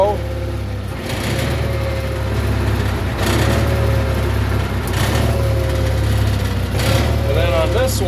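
A lawn tractor fitted with a cab and a snow blower runs close by with the PTO engaged, droning steadily and loudly while a person talks over it.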